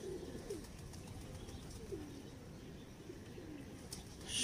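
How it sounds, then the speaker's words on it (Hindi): A pigeon with broad eyes, a wide eye ring and white lashes coos softly a few times, the low calls rising over a steady background hiss with no voices. "इस आँख का बड़ा अच्छा और शानदार कबूतर है।"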